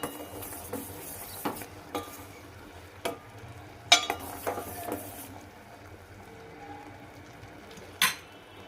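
Amla morabba being stirred and turned in a pan, with scattered utensil scrapes and knocks over a soft low sizzle, a sharper clatter near the middle and again near the end.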